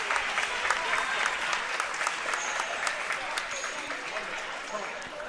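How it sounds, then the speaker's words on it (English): Home crowd at a boys' junior high basketball game between Woodlawn and Patoka applauding substitutes checking in, a dense, steady wash of clapping with some crowd voices, sustained for several seconds. "And they all get a big round of applause from the Woodlawn faithful."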